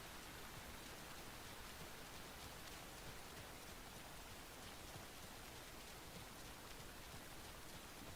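Rain falling in a video game: a steady, dense hiss of rainfall, even and continuous throughout, soft and uniform with no distinct drops or other sounds.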